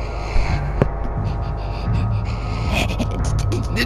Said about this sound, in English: Fuck off with the breathing!